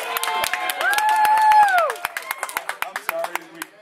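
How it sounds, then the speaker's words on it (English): A convention audience gives a short round of applause, a burst of scattered hand claps mixed with crowd voices and cheering, with people talking loudly over the clapping as it trails off. "Did we get a round of applause?"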